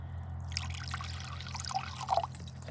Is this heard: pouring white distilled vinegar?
yes